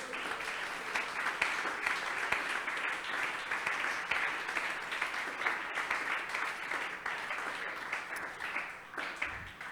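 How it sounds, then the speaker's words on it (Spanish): A church congregation applauds during a sermon, a fairly quiet, continuous wash of clapping heard from a distance that fades slightly toward the end. "dele un aplauso a mi Dios."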